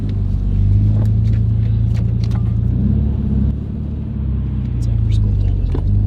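A Nissan Skyline R32 sits idling as it warms up, its engine holding a steady low rumble throughout with slight shifts in pitch, while people talk quietly nearby.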